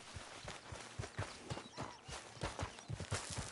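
Horse hooves in the video game Red Dead Redemption 2 clip-clop at an even walking pace, the steady thuds close and clear over faint background ambience, with no clear whinny.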